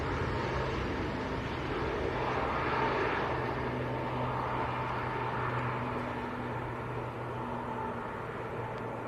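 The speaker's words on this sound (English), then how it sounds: "that's the aircraft we flew on, Tom" An airplane at Manchester Airport produces a steady broad engine roar with a faint tonal hum, constant in loudness throughout at moderate distance.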